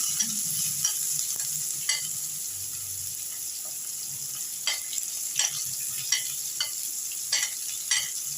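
Onion and black cumin sizzling in a frying pan, a soft steady hiss broken by repeated light scrapes and taps of a spatula, fairly close and without talk.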